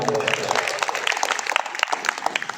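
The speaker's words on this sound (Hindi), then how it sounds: "एक बार जोरदार तालियों से इस्तेमाल करते हैं।" An audience at an Independence Day mushaira poetry gathering in Sendhwa breaks into applause, a crowd of hands producing a thick patter of sharp claps at moderate distance.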